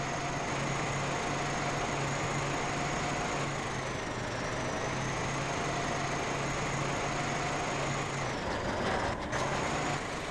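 Tractor engine in a farming video game loading alfalfa: a continuous loud droning engine hum with a steady tonal whine, shifting pitch slightly near the end, no speech over it.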